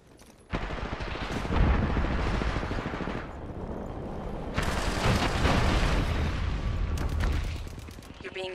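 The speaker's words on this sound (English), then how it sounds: "Enemies are shooting at me." Automatic and single gunfire from an Apex Legends firefight rattles in loud, dense bursts that run almost the whole time, with a brief lull before a heavier barrage and sharp separate shots near the end.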